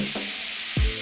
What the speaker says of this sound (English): while the meat is browning and the flavors are marrying in the pot